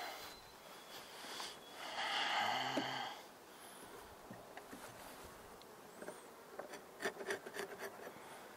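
Honey bees buzz around an open hive, a soft, near drone that swells briefly and then thins to scattered faint hums, along with light rustles and clicks of frames being handled.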